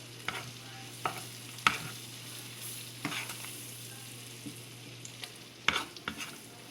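Flour is stirred into melted butter and undrained sausage grease for a biscuit-gravy roux, a soft steady sizzle with scattered spoon scrapes and taps against the pan, close and fairly quiet, no talking.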